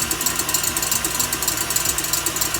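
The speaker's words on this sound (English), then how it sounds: "Got the stir mixer on." A stand mixer whirs with a rapid, pulsing mechanical rattle while whisking egg whites for Italian-method macarons, steady and close for the whole stretch with no voices.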